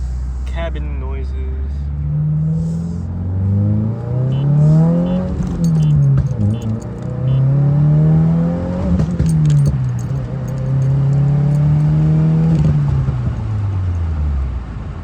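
Steady engine drone inside a moving 2023 Subaru WRX with an aftermarket exhaust, rising and falling as it accelerates and shifts, with faint jingling of keys and a voice speaking.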